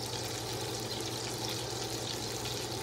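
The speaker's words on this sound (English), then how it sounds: "all that bubbling out of there is the butter fat that is in there, and that's actually what will make it brown" Butter fat bubbling and sizzling in a hot pan before a filet is seared, a continuous close, dense crackling fry with no pauses.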